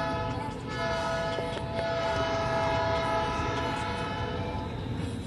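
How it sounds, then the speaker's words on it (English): A train passes close by with a sustained, droning horn blast over the continuous rumble and clatter of rolling rail cars, loud throughout. "There's a train, so just sitting here waiting."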